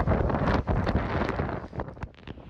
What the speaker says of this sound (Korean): 강한 바람 소리 들리십니까?